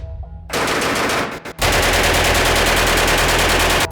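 British World War II submachine gun fired in long, loud automatic bursts at close range, a short burst followed by a brief pause and then a sustained rapid stream of shots, with no voices.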